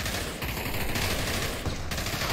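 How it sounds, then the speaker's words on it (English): Rapid, dense gunfire in the VR shooter Pavlov, continuous automatic bursts crackling loud and close with only brief dips. "And we're just walking into gunfire there."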